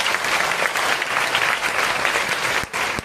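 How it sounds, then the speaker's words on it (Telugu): Dense, steady applause from an audience at a Vestige leaders' meeting fills the room for about three seconds, loud and continuous, with a couple of sharper claps near the end. "మీరందరికీ ఒకసారి బిగ్ క్లాప్స్."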